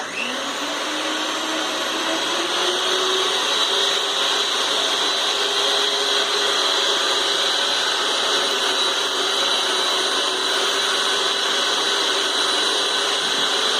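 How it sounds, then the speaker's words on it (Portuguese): An electric stand mixer whips sponge cake batter in a home kitchen, a steady, loud whirring drone with a high motor whine that holds unbroken from start to finish. "Pôr na batedeira e deixar bater."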